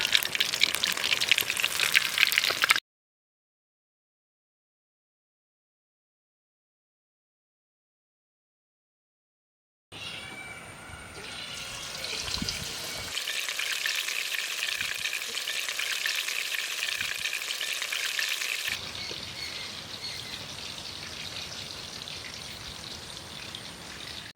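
Bangda mackerel fish fry crackling in a pan, a steady hiss of frying oil that drops out to silence for several seconds, then resumes as a fainter, even sizzle with no voices.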